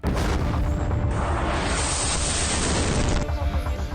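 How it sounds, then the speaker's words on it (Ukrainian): Loud, rumbling blasts from missile strikes on power substations in Lviv region, Ukraine, roll over one another in a dense, booming roar that continues for several seconds, with no talking. "Потужні вибухи на Львівщині вдарили по підстанціям."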